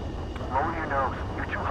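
A jet aircraft on approach to a runway in Ace Combat 7, its engine a steady broad drone beneath a radio voice giving landing instructions.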